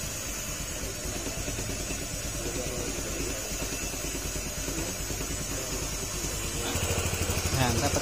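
A Honda Click 150 scooter engine idles at a steady low rumble after idle adjustment, its pitch rising slightly near the end, while someone talks over it.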